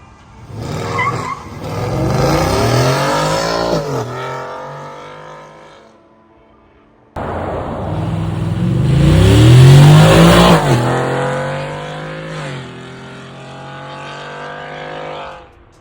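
Lowered Ford F150 pickup with a cat delete and stock muffler revving hard in two loud bursts, engine note climbing steeply and dropping off with a brief quiet gap between pulls.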